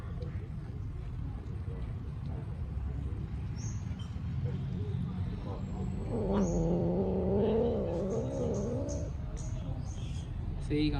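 A temple cat meows in a drawn-out, wavering call midway through, over steady low background noise.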